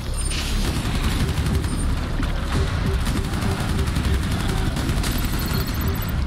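Rainbow Six Extraction combat with a frag grenade blast and dense gunfire, a harsh, continuous wall of shots and booms with clattering sharp bursts throughout.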